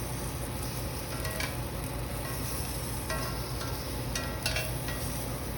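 Shrimp for tacos sizzling in a frying pan, a steady crackling hiss throughout with occasional brief clinks and stirring scrapes, close and even in level.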